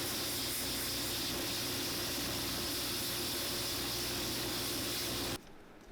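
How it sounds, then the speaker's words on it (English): Bench sander roughing up a layer of an Ariat work boot sole during a resole; a loud, steady, close whirring grind with a constant hum that cuts off sharply near the end. "So let's take this over to the sander and we'll rough it up."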